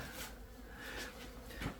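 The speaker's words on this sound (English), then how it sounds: "Hundreds of bees." A dense, steady buzz of many bees hums close around, continuous and fairly loud, with no talking.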